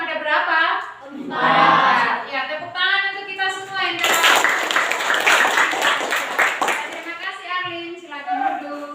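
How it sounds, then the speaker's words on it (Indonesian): A classroom of children breaks into a dense burst of applause lasting a few seconds. Voices of a teacher and children are heard just before and after the clapping. "tepuk tangan untuk kita semua"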